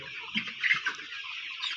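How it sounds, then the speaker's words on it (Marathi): DP cross chickens cluck and chatter softly in a close poultry flock, a continuous busy murmur of short calls with no talking. "माझ्याकडे आत्ता हे जे पक्षी आहेत ते डीपी क्रॉस या जातीचे आहेत"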